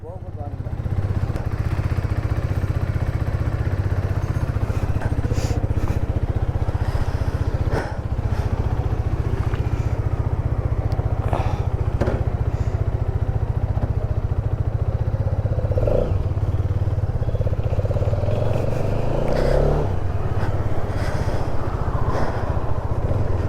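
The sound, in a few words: Hero Xtreme 250R motorcycle being ridden after service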